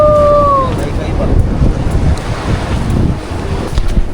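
Ocean waves surge against a rocky shore below a high seawall after a storm, a loud continuous roar with heavy wind buffeting the microphone.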